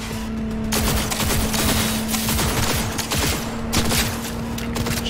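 Rapid automatic gunfire from the video game Cyberpunk 2077 rattles loud and close in dense bursts that run almost without pause, over a steady low hum.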